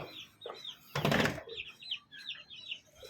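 Several chickens cluck and chirp in quick, repeated calls at feeding time, with a brief burst of flapping or rustling near the start.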